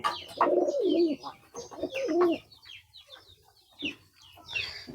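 Paired pigeons, including a Sirazi pigeon, coo at feeding time, giving several deep, rolling coos in quick bursts close by, with faint chirps and rustling in between.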